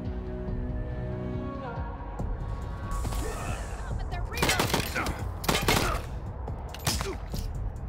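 Wasteland 3 video game combat gunfire: a cluster of loud cracking shots and a sustained burst in the latter half, laid over a steady game music and ambience bed.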